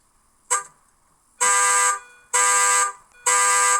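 Car alarm on a Nissan pickup truck: a short blast, then three long loud blaring tones with brief gaps between them, close and with no talk.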